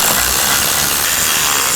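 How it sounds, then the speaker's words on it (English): A power drill runs steadily, threading bolts down while installing air helper springs on a 2015 Chevrolet, producing a harsh, hissing mechanical buzz that stays loud and constant throughout. No speech. "we'll go ahead and use a drill and thread them down the rest of the way"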